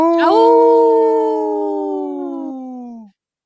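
A person on a live radio show imitates a wolf howl with one long voiced cry that swoops up, then holds and slowly sags for about three seconds before cutting off, loud and close.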